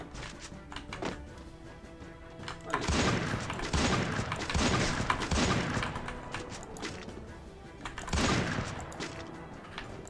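Gunfire in a multiplayer shooter game, with bursts of shots and heavy thuds in several clusters at mid distance, set under game ambience with occasional voices.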